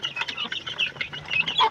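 Chickens and young chicks clucking and peeping in a busy, overlapping chorus close by at a farmyard feeding, with brief chirps scattered throughout.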